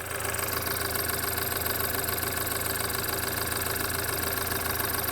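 A turbocharged BMW N20 four-cylinder idles steadily at close range with a smooth, even hum and a faint ticking texture, running cleanly on its own with no voices for the full stretch.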